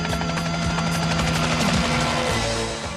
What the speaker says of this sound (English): They're using the chopper, and the chopper pushes the cattle out of the hills